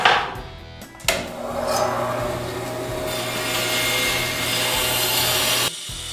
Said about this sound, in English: we're just gonna cut that out on the bandsaw.